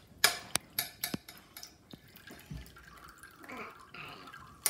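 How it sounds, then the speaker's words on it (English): Water is poured off settled cornstarch, starting with a few sharp clinks and taps of the container, then a soft trickling pour close by in a quiet room. "We need to pour out the water without letting the cornstarch come out."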